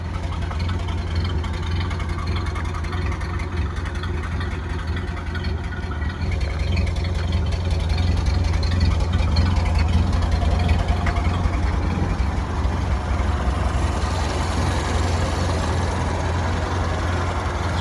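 The engine of a 1931 Ford Model A pickup runs steadily, a deep low rumbling idle with a constant throb that grows slightly louder partway through, heard alone and up close.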